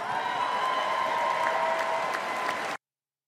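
An audience applauds in a dense, steady burst of clapping, loud and unbroken, before cutting off abruptly into silence.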